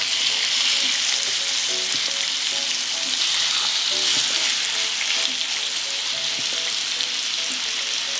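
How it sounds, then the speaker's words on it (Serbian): Pork chops sizzle steadily in hot oil in a pan, a dense, even crackle and spatter close by and continuous throughout, with no talking. "Meso spuštam na vrelo ulje i pržim 4 minuta sa jedne strane, pa 4 minuta sa druge."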